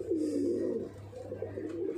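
A pigeon in a loft in Barrackpore, Kolkata, gives a soft, close, low cooing call that rises and falls across two seconds, with no voices.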